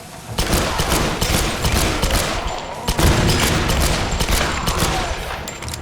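Gunfire in the video game Tomb Raider comes as loud, rapid, close bursts of shots with heavy thuds and booms, nearly continuous over the whole stretch.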